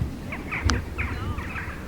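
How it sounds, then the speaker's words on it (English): Jackdaws, among the smallest members of the crow family, give several short, scratchy calls in quick succession over a steady low outdoor rumble, fairly close and moderately loud. "The jack calls you can hear are jackdaws, one of our smallest members of the corvid or crow family."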